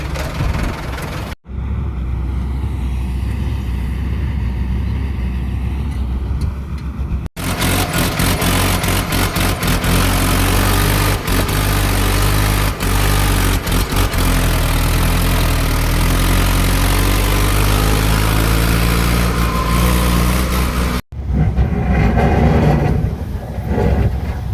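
Loaded Hyva dump truck engine running at a steady low idle-like rumble for a long stretch, loud and close, with a couple of brief cutouts and no talk over it.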